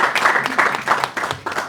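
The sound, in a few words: audience applauding a song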